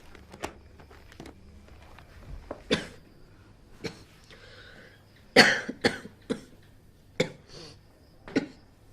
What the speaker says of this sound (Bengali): তখন থেকে কাশছিস?